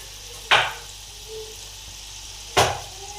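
Potato chips frying in hot oil over medium heat, two sharp bursts of sizzle as pieces drop in, each fading quickly into a low steady bubbling, close and without talk.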